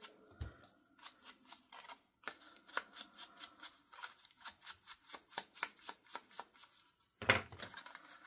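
Paper being cut with scissors for a Sidekick-release card design, a quiet, close run of crisp snips and slicing strokes in an irregular rhythm, with a firmer thump near the end.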